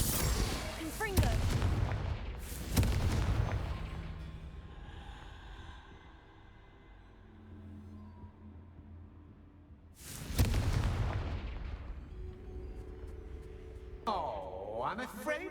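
Confringo blasting spells cast in Hogwarts Legacy, sharp explosive bursts with booming tails: two quick blasts early, a quieter lull, then another loud blast and a rising magical whoosh near the end.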